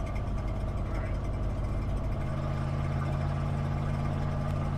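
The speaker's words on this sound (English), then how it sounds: "that noise that you're hearing is the exhaust hanger dragging on the ground" A broken exhaust hanger drags and rattles on the road beneath a moving vehicle, a continuous gritty scraping buried in a loud steady engine and road drone, with no clear break in the noise.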